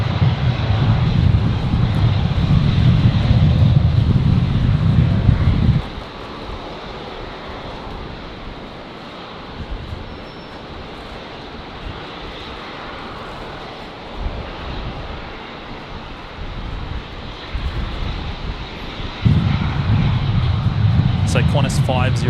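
A Qantas airliner lands on runway 19 left at Brisbane in a strong 20-knot crosswind, arriving from Sydney. Its low engine roar is loud at the start, eases into a steady background rumble, then swells again near the end with gusty wind noise and talk over it.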